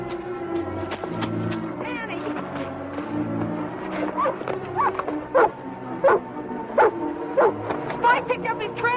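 A dog barks repeatedly while tracking a trail in an old film, in short, sharp, fairly close yelps that grow more frequent toward the end, layered over a background music score.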